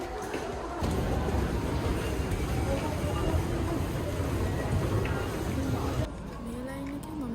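Rumble and rattle of a Tokyo Ginza Line subway train in motion, a steady loud low roar filling most of the clip, with voices talking over it throughout.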